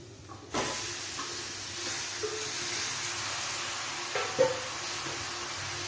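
Chicken tipped into hot masala in a pan for a roasted-coconut chicken curry, an abrupt onset of steady hissing sizzle that carries on evenly with a couple of faint bumps, no talk.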